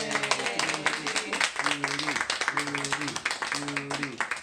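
Rhythmic hand clapping from a small group at a family gathering, quick steady claps running beneath voices that talk and sing over them throughout.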